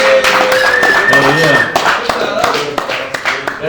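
An audience at a live hip-hop interview with a guest in Atlanta claps briefly, scattered hand claps rising over talk and then thinning into a few separate taps.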